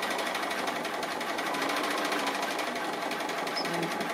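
A sewing machine stitches a tree appliqué quilt, running in a steady, fast continuous whir with the close rattle of the needle, loud and alone throughout.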